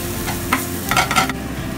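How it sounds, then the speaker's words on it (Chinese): Minced garlic and ginger frying in hot oil in a wok for mapo tofu with minced beef, a loud steady sizzle with a few scraping stirs of the spatula, close up. "落油啦，跟住俾蒜蓉同埋姜米爆一爆佢"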